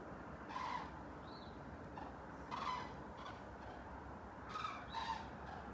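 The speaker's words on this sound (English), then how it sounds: "The migrating birds on their way to Africa." A flock of migrating birds calls in brief bursts outdoors over Mount Arbel, spaced across the clip over a steady wash of wind or background noise, moderately distant.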